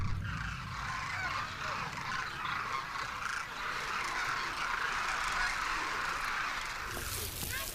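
A flock of cranes calls steadily in the Thar desert near the small town of Kichan, a continuous distant chorus of overlapping honking cries.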